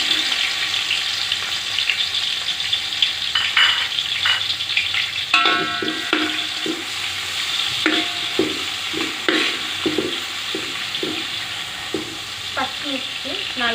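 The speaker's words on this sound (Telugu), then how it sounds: "ఆయిల్ వేడయ్యాక ఆనియన్స్ వేసుకుందాము." Onions sizzle and fry in hot oil with a steady, close crackle, while the pan is stirred with irregular scraping clatters throughout.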